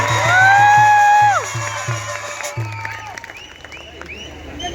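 A village crowd applauds loudly in honour of the sarpanch at a speech gathering, steady clapping with rhythmic beats and cheers that fade after a few seconds.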